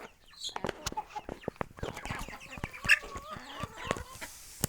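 Turkeys gobble and cluck in a busy, close chorus of short calls, with scratching and shuffling between them.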